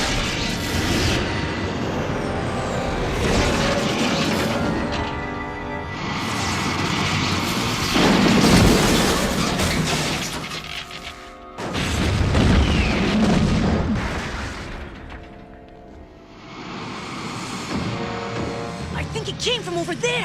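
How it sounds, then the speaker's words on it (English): Retro rockets fire aboard a spacecraft in the Exosquad animated series, a loud continuous roaring rumble with booming surges that dips briefly and then swells again, filling the scene. "Retro rockets! Fire!"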